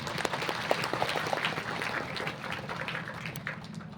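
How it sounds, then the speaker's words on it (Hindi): A congregation applauding at a Thanksgiving Holy Mass, a brief wash of scattered clapping at moderate distance with a reverberant room tone. "एक बार जोरदार तालियां मार के सबका लगिन धन्यवाद कह गई"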